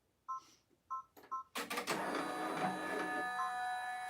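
An embroidery machine stitching an in-the-hoop Christmas stocking: a few short mechanical beeps or chirps, then a steady, close, continuous buzzing whir of rapid stitching with no talking.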